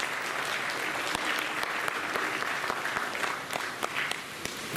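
An audience at a three-day theatre festival applauds the actors after a play, a soft, distant wash of many hands with scattered sharper claps rising through it.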